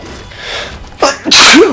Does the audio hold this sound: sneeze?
yes